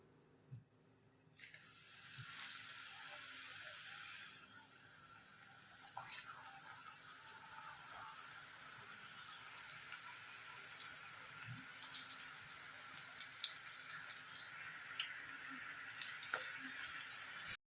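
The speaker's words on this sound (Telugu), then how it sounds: "మన ఆయిల్ బాగా వేడెక్కింది. మనం ఇప్పుడు పకోడీలు వేసుకుందాం." Onion pakoda dropped into hot oil in a kadai on the stove, bursting into a steady, bright frying hiss that holds for the rest of the stretch, with a few faint clinks and no talk.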